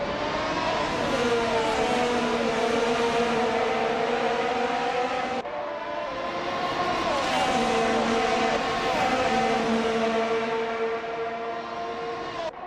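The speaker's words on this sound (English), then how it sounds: "The F1 2022 cars are performing well at the Magny Course" F1 2022 race cars lapping Magny-Cours in a racing video game, with a continuous high-pitched engine whine that rises and falls with gear changes and stays loud throughout.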